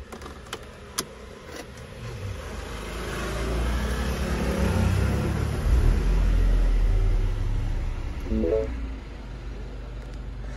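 A Mini car's engine catches and revs, a mid-pitched rumble rising and holding steady at close range, with brief clicks and handling noises around it before the revs settle.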